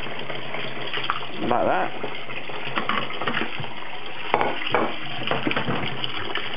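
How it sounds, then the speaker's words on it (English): Cold tap water runs steadily into a bowl holding chicken pieces for fried chicken, a continuous splashing gush with a few clinks, while a person speaks briefly over it. "we're going to run some cold water in our bowl like so"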